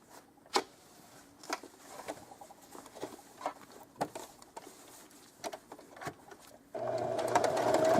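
Scattered clicks and handling taps, then a straight stitch sewing machine starts up near the end, stitching an appliqué onto a sweatshirt with a steady whirring rattle.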